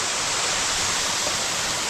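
A waterfall on the Netravathi Peak trek gives a steady, close, full roar of rushing water that stays even throughout, with no voices.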